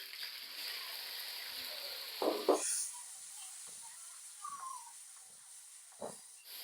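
Tomato paste with ginger-garlic paste frying in oil in a pan for lauki kofta curry, giving a continuous soft hiss and sizzle broken by a few brief clatters of stirring.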